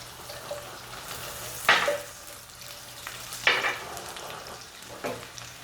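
Garlic sizzles in melted butter in a pan, a soft steady frying hiss broken by three sharp bursts of louder crackle spaced a couple of seconds apart, quiet and close with no talk.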